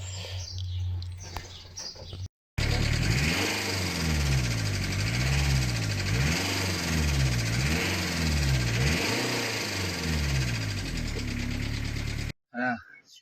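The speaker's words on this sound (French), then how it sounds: "je vais vous mettre un extrait quand le moteur tourne pas rond." A Volkswagen T4 1.9 TD diesel engine with a timing fault runs rough up close, its steady rumble carrying a repeating rhythmic knock and a high metallic whine, with brief voice snippets at start and end.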